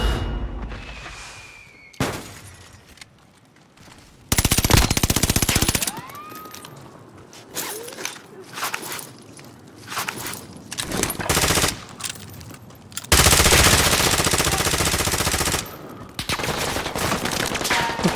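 Heavy gunfire in the video game Warzone: loud machine-gun bursts and single shots in irregular volleys, some long sustained stretches, with quieter gaps between and occasional distant booms.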